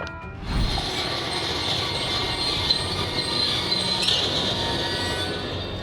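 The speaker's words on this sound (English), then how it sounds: "In a matter of moments, one rail car slipped off the train" A rail car slipping off the tracks during a derailment: a steady rumble of rolling train wagons with a high, sustained metallic wheel squeal and rattling mechanisms, heard without voices.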